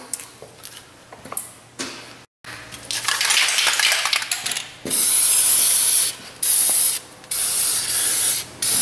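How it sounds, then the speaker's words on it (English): An aerosol can of Fluid Film lubricant sprays in loud hissing bursts on Ford Explorer Sport Trac ball joints, several long blasts with short pauses, after some metallic clicking and handling noises close by. "So spray those down with a little fluid film."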